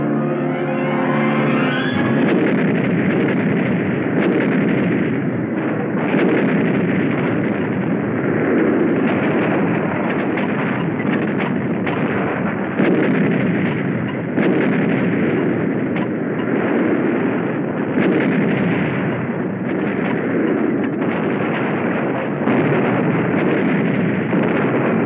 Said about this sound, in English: We called for artillery.